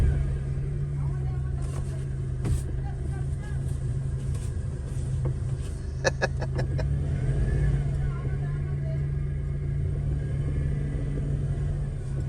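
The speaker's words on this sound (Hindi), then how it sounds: "यहाँ से गाड़ी निकालना बहुत मुश्किल है।" Car engine rumbling at close range while the car is worked out of a tight spot, a steady low drone with a few sharp clicks and knocks, and people talking over it.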